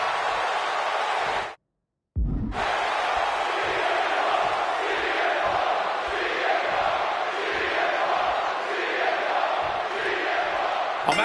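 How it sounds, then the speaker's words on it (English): In WWE 2K26, a capacity arena crowd roars and cheers in a dense, continuous wall of noise that cuts out briefly near the start and then surges back, sustained and loud. "And this capacity crowd."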